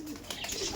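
Kaldom pigeons in a loft cooing faintly in a soft, low murmur, brief and somewhat distant against room noise.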